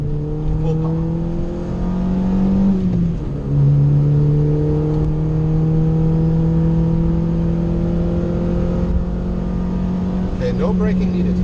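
Car engine pulling hard at full throttle on a concrete track running uphill, a steady loud rising drone with harmonics climbing through the gears and brief dips at each shift.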